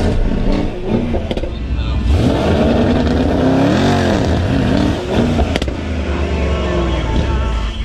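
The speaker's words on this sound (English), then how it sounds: "we've got a twin turbo E63S here." A twin-turbo Mercedes-AMG E63 S sedan engine revs and roars loudly and close, its pitch climbing and falling, with a voice briefly audible underneath.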